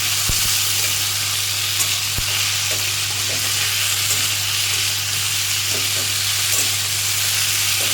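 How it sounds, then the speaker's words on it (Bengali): Potatoes fry in a pan for a breakfast bhaji, giving a loud, steady sizzle and hiss with faint stirring scrapes underneath, continuous and close, with no voices. "এবার এটাকে আমি ভালো করে নেড়ে ছেড়ে একটু ঢেকে দেবো।"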